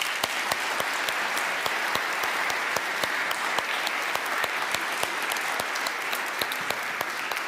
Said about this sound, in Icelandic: Ef ekki gefa þeim aftur gott klapp.